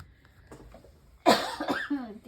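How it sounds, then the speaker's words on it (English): A single sharp cough breaks out after a quiet moment during an embossing-paste mask craft session, close and loud with a short raspy tail. "I'm going to cough."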